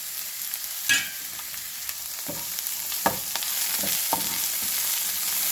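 Cinnamon, cloves, poppy seeds and fennel fry in oil with a soft, continuous sizzle, broken by a few sharp spoon clinks and stirs close by.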